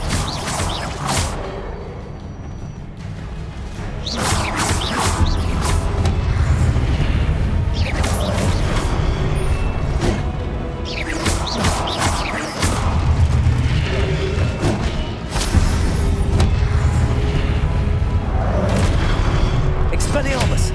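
Repeated spell blasts in the Hogwarts Legacy video game, a Disarming Charm cast over and over, with booming, crashing impacts layered over continuous loud game music and effects.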